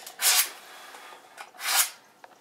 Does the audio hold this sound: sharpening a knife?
yes